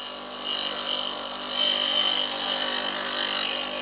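A bench grinder whines steadily as a woodworking blade is pressed to the wheel for sharpening, sparks flying. The grinding swells and eases as contact changes, heard close.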